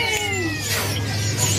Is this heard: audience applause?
no